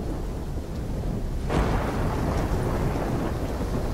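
A storm rumbles in Call of Duty: Black Ops III, a steady low roar of wind and rain broken midway by a sudden sharp thunderclap that swells into a louder, lingering rumble.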